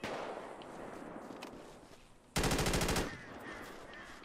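Rapid automatic gunfire bursts out loud in FiveM GTA V roleplay, a dense volley of shots lasting under a second and cutting through a busy game background, with no talk.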